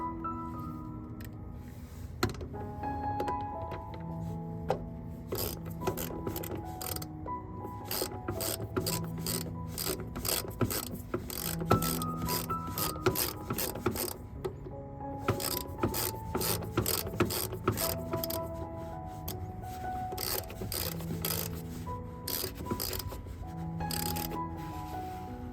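Hand ratchet with a 10mm socket working bolts on a Lexus CT200h door hinge, a steady run of close, rapid metallic clicks with bursts of ratcheting and faint rubbing, loud and continuous without talk.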